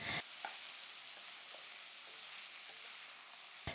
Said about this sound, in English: Add the marinated beef and spread it evenly. Let it sear for 1 to 2 minutes until the beef is slightly brown.